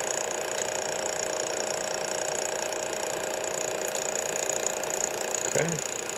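Taig lathe cutting tool just grazing the soft jaws while machining them, a steady mechanical whir and faint scraping hum with a brief clunk near the end, close and continuous.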